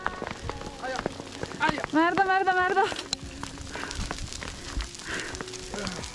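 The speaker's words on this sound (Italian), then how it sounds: "Ogni volta che vengo in montagna da sola grandina." Hail falling outdoors in the Dolomites mountains, a steady dense patter of icy pellets striking the ground and nearby surfaces, heard close under a woman's agitated, pained exclamations.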